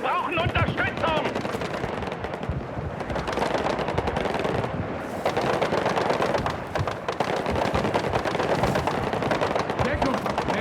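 Rapid bursts of automatic gunfire and scattered single shots in a Battlefield 6 firefight, dense and loud throughout, with radio voices calling for support over the shooting.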